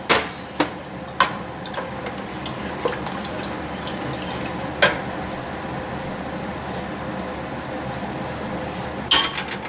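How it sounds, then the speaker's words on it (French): Broth is poured into a cooking pot for maple beer beef short ribs, giving a steady splashing trickle of liquid with a few sharp clinks, close and continuous. "Encore du bouillon."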